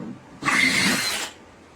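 A DeWalt DCD805 compact cordless hammer drill bores through material with a 1-inch Irwin Speedbor spade bit, a single loud whirring burst of just under a second that starts abruptly and winds down, alone.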